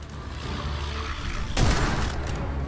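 Enemy gunfire aimed at the player in the video game Witchfire, on the Ghost Galleon level, rings out as one sharp, booming burst midway through a steady bed of game noise.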